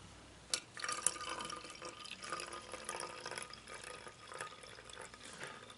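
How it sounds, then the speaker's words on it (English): Water poured into an automatic soap dispenser already holding liquid soap, a light splashing trickle with soft drips, steady and close. "I'm going to add a water."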